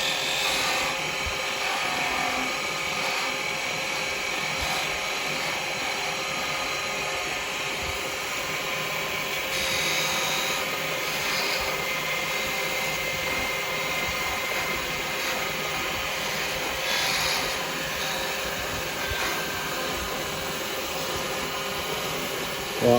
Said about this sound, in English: I'll stop the lathe.